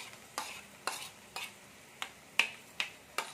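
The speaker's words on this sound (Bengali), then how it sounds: "এটাকে একটু নেড়ে নিচ্ছি, আমি হালকা নেড়ে নিচ্ছি।" Carrot, capsicum and onion frying in a pan, stirred with a utensil: about eight sharp scrapes spaced roughly every half second over a faint steady sizzle, close and alone with no talk.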